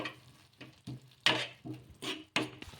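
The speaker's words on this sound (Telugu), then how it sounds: "ఇలా ఉప్పు కూడా వేసుకొని ఒకసారి బాగా కలిపేసుకుందాము." Flattened rice with salt is stirred in a pan, giving about six short, dry scraping strokes at an uneven pace, close and faint, with no speech.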